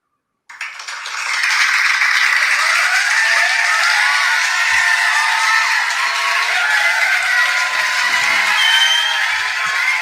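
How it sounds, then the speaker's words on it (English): After a poetry reading, an audience breaks into sustained applause that starts abruptly and holds at a steady, dense level with scattered whoops, loud and close. "when like you heard the applause, it just made my day"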